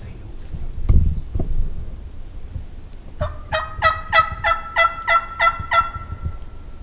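A wild turkey gobbles during a youth spring turkey hunt: after a dull thump, one rapid, rattling burst of about eight quick pulses rings out clearly at moderate distance in a quiet outdoor setting.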